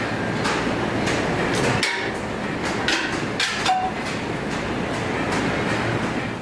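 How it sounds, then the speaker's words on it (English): At Wendell August Forge a craftsman hammers production pieces off finished metal dies, giving a series of sharp, irregular metallic strikes over steady workshop noise, with no talking. "He is the craftsman that will take our finished dies and hammer the production pieces off of it."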